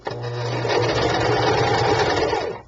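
A sewing machine back-stitches a shabby chic sachet bag in one short, fast, even run of needle chatter that starts and stops cleanly, close and loud.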